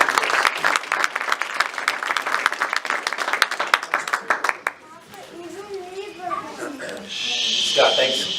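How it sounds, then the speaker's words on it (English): Audience applause at a Hanukkah menorah lighting ceremony on Staten Island: dense clapping for about five seconds, then fading into crowd murmur and voices. "So please give you a round of applause"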